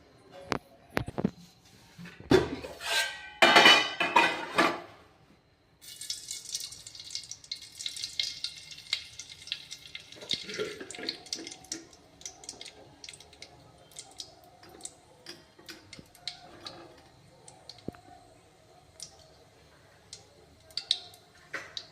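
Cumin seeds splutter in hot tempering oil for a North Karnataka fenugreek kadubu, giving quick crackles and sharp ticking pops followed by a lighter, irregular sizzling patter.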